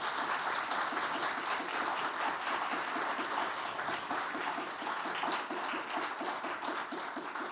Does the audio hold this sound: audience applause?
yes